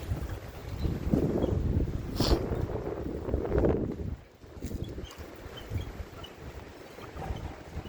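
Outdoor wind in frigid polar vortex weather buffets the microphone with loud, low rumbling gusts that swell and ease, dropping briefly before rising again, with no speech.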